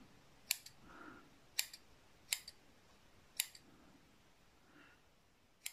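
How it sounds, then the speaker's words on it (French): Several crisp snips of scissors trimming stray cotton wick filaments on a Tauren Max RDTA rebuildable atomizer, five short separate cuts spaced over a quiet background. "on va couper les petits filaments en trop"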